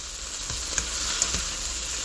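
Okra fries in a pan with a steady, bright sizzle that stays fairly loud throughout, broken by a few soft scrapes and light taps of a utensil stirring, with no talking.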